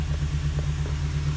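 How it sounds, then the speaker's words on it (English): A 2015 Ford E-350 van's engine, started by a remote start system, gives a steady low rumble that runs evenly, close by and fairly loud, with no talk. "The remote whistles, engine cranks."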